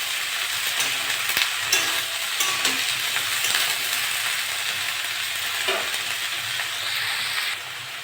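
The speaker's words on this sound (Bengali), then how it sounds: "ওটা নেড়ে চেড়ে একটু ভেজে নিয়েছি।" Beetroot and potato sizzle steadily in a hot pan while being stirred, with light scraping and clinks, close and even, no voices.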